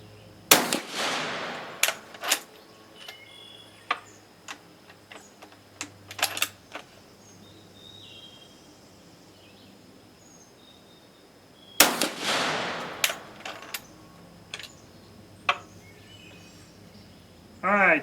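Italian Vetterli rifle firing 10.4x47R test ammunition: two loud, sharp shots about eleven seconds apart, each ringing out briefly, with clicks and handling noises from working the action in between.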